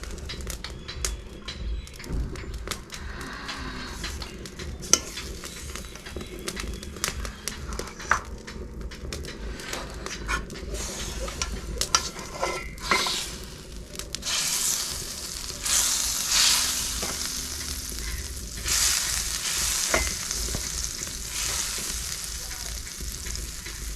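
Steady sizzling of ghee and butter in a hot pan, a continuous crackling hiss with scattered pops and occasional stirring scrapes, close and fairly loud.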